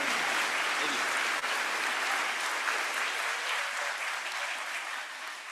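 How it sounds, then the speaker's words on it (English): An audience at the Louisville Collegiate School Thanksgiving program claps in sustained, loud applause that fills the hall and slowly tapers off toward the end. "Let's give him a round of applause."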